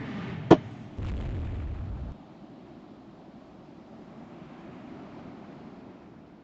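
A single sharp distant boom of naval gunfire in Rule the Waves 3, followed by a short low rumble that fades into a quiet wind-like background.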